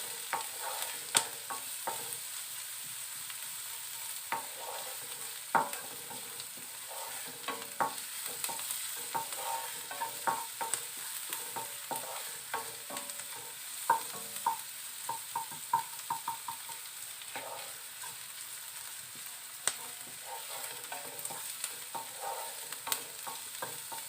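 Onions frying in a pan and stirred repeatedly, a quiet steady sizzle broken by frequent sharp clicks and scrapes of the spatula against the pan, no talking.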